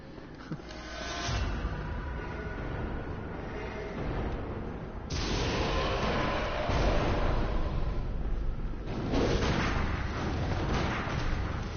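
Gunfire crackles in a PS4 video game, with dense bursts of shots and heavy booming impacts layered over continuous battle noise, loud throughout and swelling in intensity partway through.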